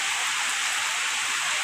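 Steady rain pours down in a dense, loud, even hiss with no breaks, close by.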